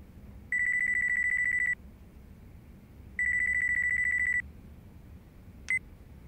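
Mobile phone in the video game Yakuza 5 rings in two long electronic trill bursts separated by a pause, followed by a brief beep as it is answered, clear and close.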